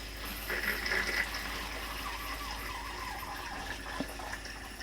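Cold tap running in a motorhome fresh water system during sanitising, a steady close stream of water splashing into a sink with no talk.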